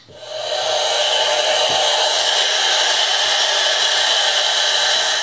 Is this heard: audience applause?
no